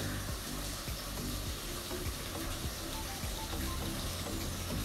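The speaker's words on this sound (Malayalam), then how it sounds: "തക്കാളി ചേർത്തിട്ട് ഒന്ന് മിക്സ് ചെയ്യാം." Tomatoes being stirred into a hot pan for a cheese masala pav filling give a steady, dense sizzle with faint scraping strokes, close by and continuous with no talking.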